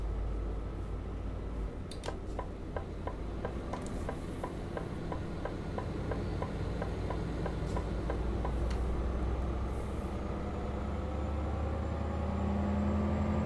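Steady truck and car traffic drones in Euro Truck Simulator 2, a continuous engine rumble with a run of rhythmic clicking ticks through the middle, no voices.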